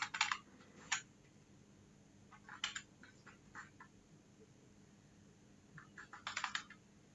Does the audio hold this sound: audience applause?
no